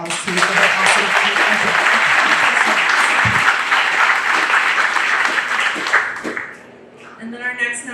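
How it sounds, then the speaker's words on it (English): An audience at a county fair opening ceremony gives a loud, dense round of applause lasting about six seconds, then it fades out and a voice begins speaking. "Can we give her another round of applause too for her awesome"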